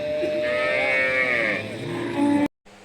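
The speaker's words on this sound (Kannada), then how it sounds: "ಈಗ ನೋಡಿ ಎಷ್ಟು ಹಸುಗಳು ಇನ್ನೂ ಬರ್ತಾನೆ ಇದ್ದಾವೆ." A cow lets out a long, loud moo at a busy cattle market where many breeds are sold, followed by a brief cut and quieter background.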